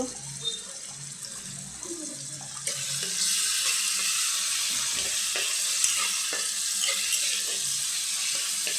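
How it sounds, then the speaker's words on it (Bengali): Onions fry in a pan, a low clatter at first, then a loud, steady sizzle that starts suddenly and holds to the end. "এই যে এখান দিয়ে এখন পেঁয়াজটা ভেজে নিচ্ছি।"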